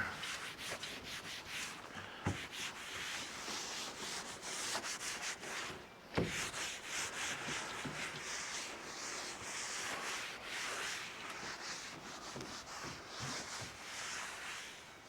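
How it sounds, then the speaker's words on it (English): Cloth rubbing steadily over the surface of a 1972 PolarKraft boat to wipe away grease and oils before adhesive goes on, a continuous close scrubbing hiss with a couple of sharp knocks, no talking. "kind of give this a good wipe down. This will help remove any grease and oils that are on the surface"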